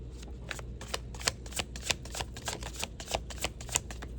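Rapid riffling of a deck of oracle cards being shuffled, a steady run of crisp papery bursts repeating about every third of a second, close up.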